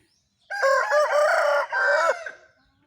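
A native Thai rooster crows once, loud and close, with a long harmonic call of about two seconds that rises and then falls away, with no talk over it.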